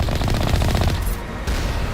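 Rapid turret gunfire from the Mass Effect video game, a loud, dense burst of repeated shots for about a second that gives way to a duller rumble.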